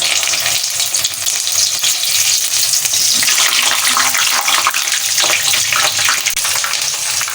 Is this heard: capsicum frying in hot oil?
yes